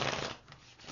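A deck of tarot cards riffles in one quick, close shuffle, a papery flutter that fades out midway and then picks up again.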